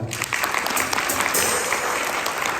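A hotel function room fills with steady applause from the audience at a company outing, dense and sustained clapping with a few voices mixed in.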